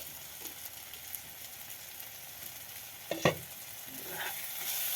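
Spices, tomato and fish are sautéed in a pan for doi rui, a soft continuous sizzle with a sharp spoon clatter against the pan midway and stirring scrapes.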